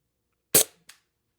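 A TR50 Torpedo gun fires two sharp shots, a loud close crack followed about a third of a second later by a shorter, softer report, then silence.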